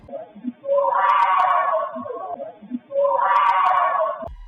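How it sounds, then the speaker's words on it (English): Two long, wailing screams, each lasting over a second and separated by a short pause, high-pitched and strained, with faint background noise. "you're about to hear one of the most blood-curdling screams I've ever heard in my life."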